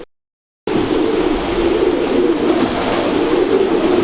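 Pigeons coo in a low, continuous murmur close by, with a soft steady hum of background noise.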